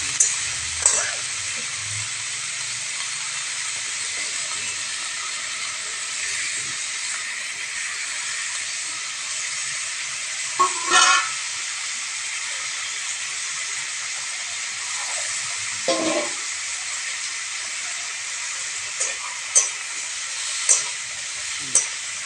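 Stalks and potatoes frying in a pan and being stirred make a steady close sizzle and hiss throughout, with occasional scraping stirs, while people speak now and then.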